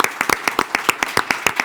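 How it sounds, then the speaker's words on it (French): Audience applause at an Orléans real estate event, heard as a run of sharp, evenly spaced claps that sound like a small crowd clapping together at close range, with no voices over it. "Applaudissements."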